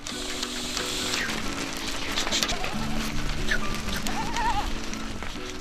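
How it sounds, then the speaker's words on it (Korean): Young goats let out of their overnight pen on a Mongolian Gobi herding camp bleat repeatedly at close range. Their wavering cries overlap one another against a steady background hiss. "밤사이 가둬두었던 새끼 염소들을 풀어주는데요."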